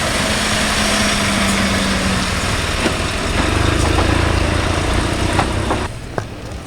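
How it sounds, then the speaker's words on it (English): A heavy tow truck's diesel engine idles steadily nearby during a truck convoy in Lopik, Holland, a low constant rumble with a slight swell midway and small knocks near the end. "Nice tow truck, heavy one."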